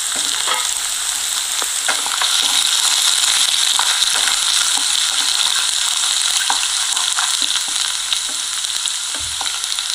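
Mustard seeds, fenugreek and ginger frying in coconut oil, stirred in a pan for a pickle, giving a loud, dense, continuous sizzle with scattered crackles and pops up close, without talking.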